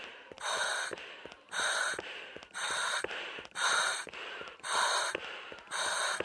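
Loud, close heavy breathing in a horror video game, The Prodigal Soul, repeats about six times in a steady in-and-out rhythm, each breath a harsh airy gasp, with no other sound around it.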